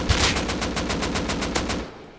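Rapid automatic gunfire in the video game Rust: a burst of about a dozen evenly spaced, sharp shots fired in quick succession, loud and close, stopping abruptly at the end.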